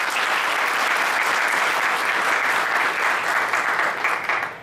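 Loud, sustained applause from a seated audience at a Varanasi musical evening of vocal music, a dense wash of many hands that holds steady for several seconds before tapering off at the end.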